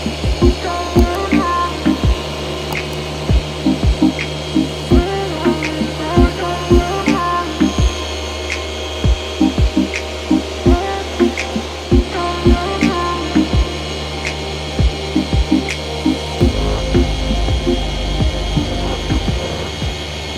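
Landscapers' power equipment runs outdoors as a steady mechanical drone with a pulsing, rhythmic clatter. The texture shifts and grows heavier near the end, and no voices are heard.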